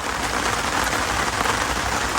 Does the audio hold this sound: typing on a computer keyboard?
no